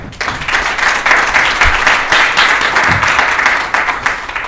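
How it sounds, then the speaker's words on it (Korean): A seminar audience at a defense research forum gives a speaker a steady round of applause. The clapping is loud and dense and carries on evenly with no talking over it. "김 교수님의 발표를 큰 박수로 청하겠습니다"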